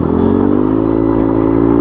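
A motorcycle with a TZM exhaust fitted with a dB killer idles loud and close with a muffled, flat, steady throbbing note, held at a constant rev.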